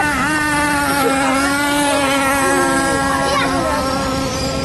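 A small remote-control car engine whines loudly at a high, steady pitch, revving and buzzing continuously as the car races close by.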